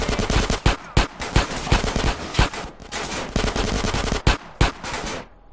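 Pistol fire in GTA San Andreas cracks out as a long run of loud, sharp shots at an uneven rapid pace, some closely bunched, before cutting off into quiet at the end.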